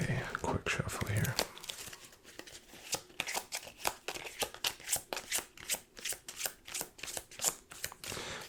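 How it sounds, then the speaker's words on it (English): Playing cards being shuffled up close in a casino-style setting, a rapid series of crisp riffling flicks that are loud and alone after a brief opening of other sounds. "Let's get a quick shuffle here."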